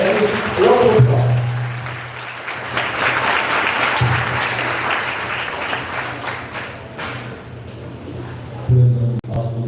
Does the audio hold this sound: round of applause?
yes